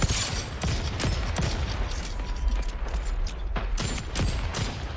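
Rapid pistol fire in the Splitgate 2 battle royale game, with repeated sharp shots and mechanical clicks piling up densely over a steady loud background, no speech.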